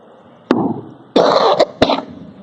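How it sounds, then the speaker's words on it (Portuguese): Three dry, harsh coughs in quick succession, close and fairly loud, with short pauses between them. "Eu estou com uma tosse desde ontem, essa tosse seca"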